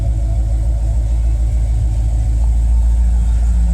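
Chevy truck fitted with a new exhaust and X pipe, a deep steady rumbling idle, loud and close with no talk over it.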